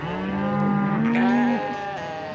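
A single long, loud moo from cattle, bellowing close by for about two seconds, with no voices present.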